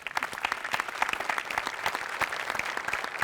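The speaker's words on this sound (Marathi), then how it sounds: "तर मराठी भाषेसाठी एकदा टाळ्या" Audience applause for the Marathi language at a Marathi stage show, a dense, steady burst of many hands clapping that stays loud and even throughout.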